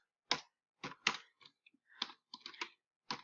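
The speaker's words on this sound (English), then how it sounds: "I don't know if I'm typing anything right" Sparse computer keyboard typing, quiet and close, a few isolated key clicks and short bursts separated by silent gaps.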